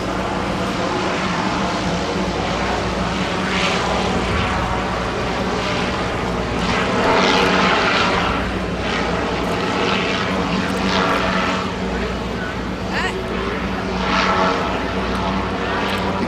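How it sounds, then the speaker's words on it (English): Zeppelin Eureka airship in flight, a single engine geared to two tail propellers giving a continuous loud droning buzz that swells slightly midway, with no talking. "It's got 1 engine running through a gearbox to 2 propellers."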